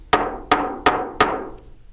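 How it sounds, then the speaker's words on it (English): Four evenly spaced, sharp taps of a nylon or rawhide hammer flattening thin solderable metal accents on a metal bench block, each ringing briefly before the next. "using my nylon hammer or a rawhide hammer, I'm just going to tap them"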